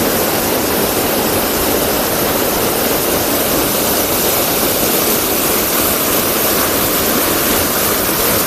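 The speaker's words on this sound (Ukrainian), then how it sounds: "Такий він, водоспад, дівочі сльози" The Maiden's Tears mountain waterfall, full with April snowmelt, roars as a loud, continuous broadband rush of falling water close by, steady throughout with no voices.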